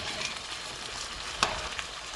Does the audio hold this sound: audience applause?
no